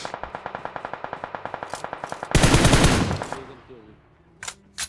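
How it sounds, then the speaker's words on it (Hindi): Rapid automatic gunfire rattles in a steady rhythm in a video game, followed by a loud burst that decays into a few sparse shots, close and without talk. "विकी से तू लेफ्ट साइड जाने का ट्राई कर, मैं राइट साइड से फ्लैंक करके और तुम लोग को कवर फायर देने का ट्राई करता हूँ।"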